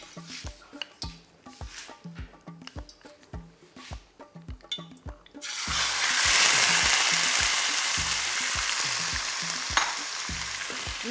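Stir-frying over a big flame in a home kitchen: scattered clatter and scraping for five seconds, then a loud, steady roar of sizzling takes over and holds to the end, with no talk.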